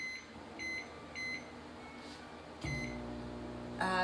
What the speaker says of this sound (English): when you do these in the microwave